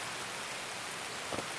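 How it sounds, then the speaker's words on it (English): Steady broadband hiss of rain falling in the Escape From Tarkov video game, a continuous even wash with no voices and a soft brief patter near the end. "Even though it is very rainy."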